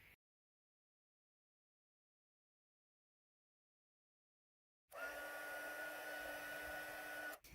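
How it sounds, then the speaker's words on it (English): Heat tool blowing hot air to melt white embossing powder on a card, starting abruptly after a long silence as a loud, steady whooshing hum that runs on unbroken to the end. "So I'm going to heat emboss that in with white embossing powder."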